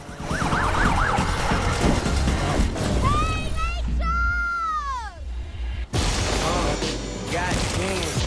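Police sirens wailing and yelping during a chase in the video game Need for Speed Unbound, loud and rising and falling over engine roar and a music track with rap vocals.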